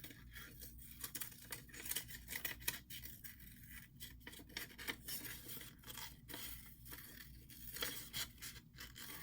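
Quiet, repeated snipping and rustling of scissors cutting leaf shapes out of paper for a card, with steady short cuts throughout and no talking.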